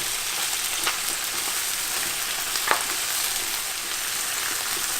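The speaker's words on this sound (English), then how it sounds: "stir fry for another minute until the spinach begins to wilt" Shrimp and spinach stir-fry in a pan with a steady, bright sizzle, broken by a few light scrapes of the spatula as the wilting greens are tossed. The cooking is close and even throughout, with no speech.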